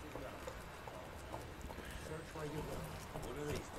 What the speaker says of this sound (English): Oh, don't punch in a horse. That's not Roach. Here's Roach